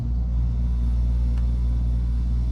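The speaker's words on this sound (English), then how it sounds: "the condenser just kicked on" An air conditioner condenser unit serving a Lennox furnace system runs with a loud, steady low hum and rumble, close by and unbroken.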